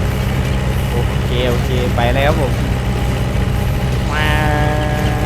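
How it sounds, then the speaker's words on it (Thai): A classic tractor engine in Farming Simulator 19 rumbles steadily and loudly throughout, with someone talking over it in a few short bursts. "แต่รถไถเป็นเสียงดังไปหน่อย"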